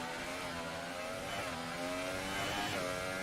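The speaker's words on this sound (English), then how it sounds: "Hear the engine revving, trying to get as fast as possible." An F1 car engine in the racing video game F1 Rapid Racers revs hard and steadily, a loud sustained whine that climbs slightly in pitch, heard alone without talk.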